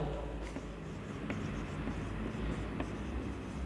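A teacher writing on a board during a biology lesson, with a few soft scratchy strokes over a constant low hum of room noise, close and fairly quiet.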